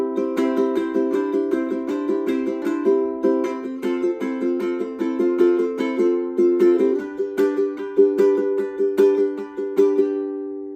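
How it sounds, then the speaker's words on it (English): A short melodic string intro from a song, played as a steady run of plucked-sounding notes over sustained chords, clear and close, with no talk. "That's that little violin intro."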